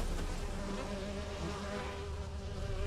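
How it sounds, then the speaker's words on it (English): Bees buzzing in The Witcher 3, a close, steady insect drone with a wavering tonal hum that carries on without pause. "I wonder what the bees are for."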